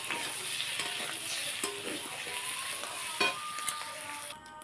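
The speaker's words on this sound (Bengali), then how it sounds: "এইটুকু জল দিয়ে দিলাম" Meat curry in a pan just after water is poured in: a steady, close hiss of sizzling bubbles carries through, with a few faint stirring knocks toward the end and no voices.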